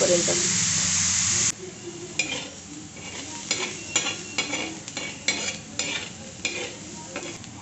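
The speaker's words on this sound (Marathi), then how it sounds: "कांदा आपण चांगला परतून घेऊयात गुलाबी रंग येस" Onion sautéing in a pan for a bombil kanda dish, a loud burst of sizzling followed by a steady sizzle with repeated scraping and stirring strokes, close by.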